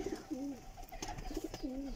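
Large flying pigeons coo in soft, rolling phrases that repeat twice, fairly close against a quiet background hum.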